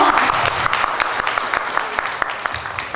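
At a Valentine's Day church gathering in Angeles City, an audience claps for a couples contest winner, a dense continuous applause with individual sharp claps standing out, close and even throughout.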